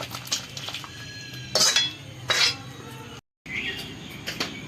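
Metal pots and dishes clink and clatter as cooked raw mangoes are shifted into another pot, with a few sharp bright knocks and scrapes standing out against a quiet kitchen background, no talking.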